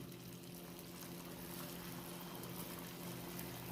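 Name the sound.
coconut patties frying in hot oil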